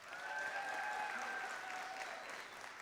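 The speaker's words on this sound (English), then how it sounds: "Another round of applause for them." An audience applauds for two young storytellers, a steady wash of clapping heard fairly softly for a few seconds and tapering off at the end.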